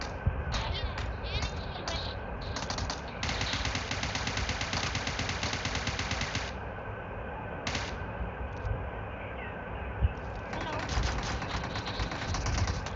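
Rapid bursts of automatic gunfire from a UMP9-style gun in the PUBG Mobile video game come in repeated stuttering volleys of varying length, loud and close, with game ambience between bursts and speech-like sounds at times.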